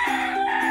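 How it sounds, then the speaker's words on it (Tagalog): A rooster crows as a sound effect, loud and close. It is one sustained, wavering cock-a-doodle-doo with no other sound. "Tumitilaok na yung ibon."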